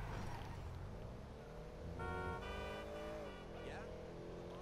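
Car engine in GTA Online, a steady revving drone with rising pitch as it accelerates and shifts, loud and continuous with game sounds and a voice talking underneath.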